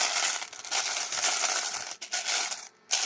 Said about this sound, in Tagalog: Ilan kaya itong barya nito?